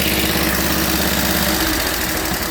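A 1945 Cushman model 54 scooter engine idles steadily after a cold start, a continuous close, loud putter with an even vibrating rhythm and no talk over it.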